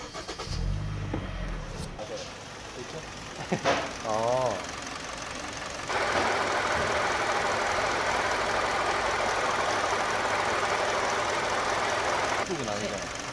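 A car engine turns over and settles into a steady idle, a loud broadband drone running continuously for the second half, with a belt-driven component suspected of making noise; people talk beforehand.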